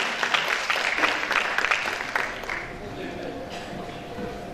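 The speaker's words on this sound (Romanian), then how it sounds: "Aplauze pentru domnișoara Marina" Audience applause for a contest winner at an award event, a dense steady clatter of many hands clapping that eases off slightly toward the end.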